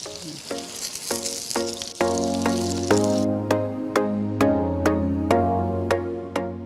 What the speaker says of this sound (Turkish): Biberler kızardı. Biberlerimiz kızardı.